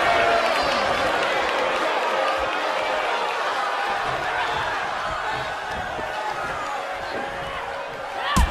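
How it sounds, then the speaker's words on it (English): A wrestling arena crowd roars and applauds in a steady, dense wash of cheering, with a commentator talking over the noise. "this crowd is on their feet in full appreciation"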